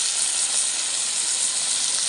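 Broad beans and potatoes fry in a pan with a dense, loud, unbroken sizzle heard up close, steady throughout with no voices.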